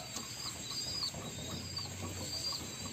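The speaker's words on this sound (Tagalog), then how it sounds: "Naririnig yung nagtitweet-tweet na maingay." Pigeons kept in a loft chirp and tweet noisily, with soft repeated calls over a steady background hum and no talk.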